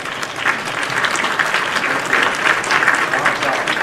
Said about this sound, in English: Boys, you gotta clap